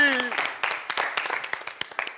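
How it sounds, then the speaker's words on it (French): Studio audience on a French-language television show applauds and claps in quick uneven bursts, with a brief voice at the start and the clapping fading in and out. "On l'applaudit encore."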